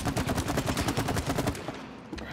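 Rapid gunshots in the It Takes Two video game, fired as an even stream of about a dozen quick, loud shots before cutting off into a quieter, fading tail.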